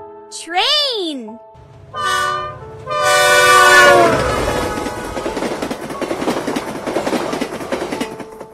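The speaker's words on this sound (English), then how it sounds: "Train." A passing train sounds its horn in a few rising-and-falling blasts, then rumbles past with a loud, continuous rattling roar of wheels and cars that fills the rest of the clip.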